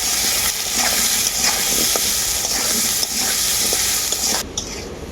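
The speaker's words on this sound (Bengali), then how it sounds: "আলুটাকে আমি খুব ভালো করে ভেজে নেব" Potato pieces coated with turmeric and salt fry in mustard oil for a fish curry, giving a loud, dense, continuous sizzle with faint stirring scrapes, easing slightly near the end; no voices.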